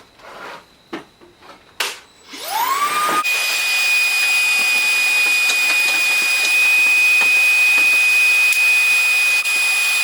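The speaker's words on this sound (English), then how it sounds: "vacuum back on." A shop vacuum in a woodworking shop starts up after a few knocks and clatters, its whine rising quickly to a loud, steady roar with a high tone that runs on alone.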